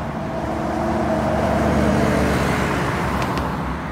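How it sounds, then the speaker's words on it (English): Steady road traffic rolls past on East Colonial Drive, a loud, continuous roadway rumble of cars and a truck, up close, with no voices. "you also get all the traffic coming down East Colonial that you're seeing now"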